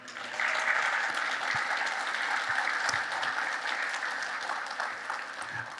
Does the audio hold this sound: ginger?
no